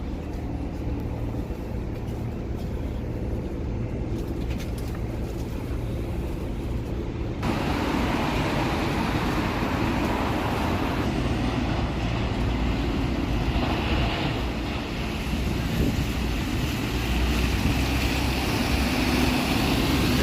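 Leeds city-centre buses and traffic manoeuvring through an open street area, a continuous broad engine rumble and road noise that steps up louder partway through and stays steady, with no one talking.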